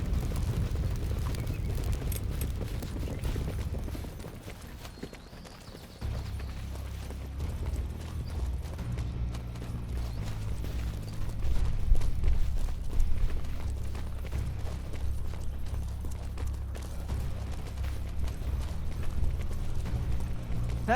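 Horses ridden in the medieval video game 1428: Shadows over Silesia give a steady, dense clatter of hooves mixed with creaking tack and low rumbling game ambience, continuous and moderately loud with no speech.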